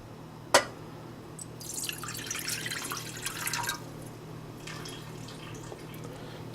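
Water, a cup and a half, poured into a cooking pot for a maple syrup recipe: a sharp drip or splash onset, then a broad hissing pour for about two seconds, a pause and a fainter second trickle, all fairly close and without talk.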